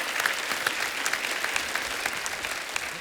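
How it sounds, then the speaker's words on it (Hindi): Audience applause fills the whole stretch, a steady dense patter of many hands clapping at an even level, with no voices over it, welcoming teacher and motivational speaker Khan Sir at a comedy show. "जोरदार तालियां हो जाए खान सर के लिए।"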